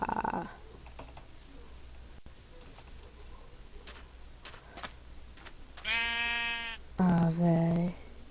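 Sheep in a video game bleat twice in quick succession near the end, loud and close. Before that come scattered faint clicks over a low background hum.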